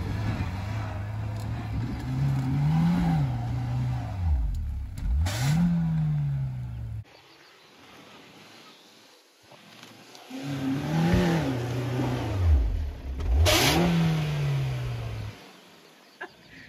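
An off-road vehicle engine, from a Jimny versus Thar off-roading run, revs hard and swells in repeated rising and falling surges, loud and close, with a quieter pause in the middle before it climbs again.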